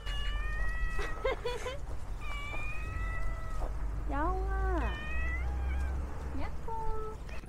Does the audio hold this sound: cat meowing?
yes